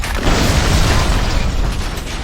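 A grenade explodes in the BioShock Remastered video game, a loud, heavy boom that bursts out and rumbles with a long low roar and debris-like crackle, no voices over it.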